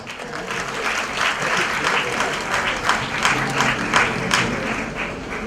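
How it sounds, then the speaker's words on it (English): Audience applause for an actress at a 2014 jewellery collection launch, dense steady clapping from a large crowd filling the whole stretch with a few sharper peaks near the end. "Please, a big round of applause for her."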